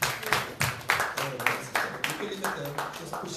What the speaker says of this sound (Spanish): Dame un aplauso al Señor Jesucristo.